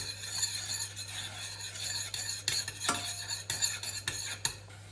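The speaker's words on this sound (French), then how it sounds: "Et là, on vient remuer." A utensil stirs sweet sauce in a pan for a salmon papillote, giving soft scraping and light clinks against the metal over a steady background hum, close and fairly quiet, with no talking.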